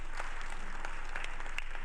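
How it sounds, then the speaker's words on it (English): Soft, distant applause in a large hall after a keynote at a digital innovation week opening ceremony in Accra, a quiet steady wash of clapping with a few slightly clearer claps poking through. "One more time, if you may, a round of applause"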